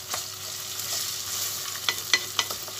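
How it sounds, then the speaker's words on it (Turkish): Pepper and tomato paste fry with minced meat in a pan for a barbunya bean dish, a soft steady sizzle broken by several sharp clinks and scrapes of stirring near the end. "Bu biraz kavrulacak salçası."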